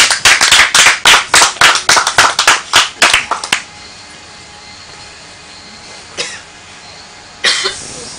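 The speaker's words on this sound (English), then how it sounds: "please a round of applause for your contestant" Studio audience claps for a contestant on a game show: a brisk, loud burst of hand claps for about three seconds, then it stops, leaving quiet room tone with a couple of isolated knocks.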